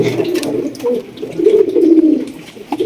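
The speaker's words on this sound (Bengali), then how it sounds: "এখানে রয়েছে একজোড়া সাদা কালো গোল্লা কবুতর দেখতে পাচ্ছেন" A pair of white-and-black Golla pigeons coo in low, rolling bursts, a steady throaty murmur rising and falling close by, with no talking.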